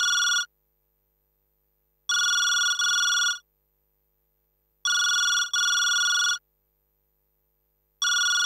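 A home telephone rings loud and close in repeated electronic bursts, some single and some doubled, with silent gaps between them and no talking.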